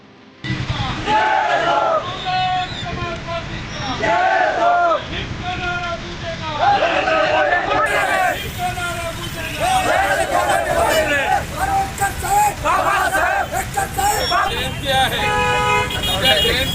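A motorcycle rally through Washim town for Mata Ramai Ambedkar's birth anniversary, with a crowd shouting slogans in loud rhythmic bursts, horns tooting and engine noise beneath, the chanting continuing throughout.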